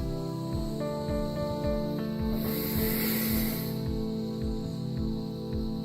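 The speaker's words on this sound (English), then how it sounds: "We're going to apply our pre-spray and we're going to let it dwell for a few minutes." A carpet pre-spray sprayer lets out a brief hissing burst over a steady mechanical hum with faint rhythmic ticking.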